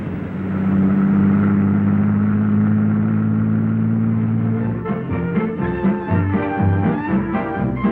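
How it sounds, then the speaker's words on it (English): A bus pulls in with a heavy, steady engine drone that rumbles loudly and then breaks into uneven, shifting mechanical sounds as it slows and stops, with no voices over it. "I'd like to see that bus pull in on time just once."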